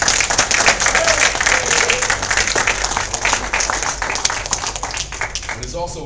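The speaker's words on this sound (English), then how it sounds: "So give yourself a round of applause." A live audience at a hip hop event breaks into sustained, dense applause, many hands clapping at once with a few voices mixed in, fading slightly toward the end.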